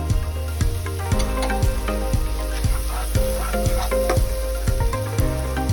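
Cumin and ground spices sizzle in hot oil, a loud, close hiss marked by a regular series of knocks and scrapes from stirring.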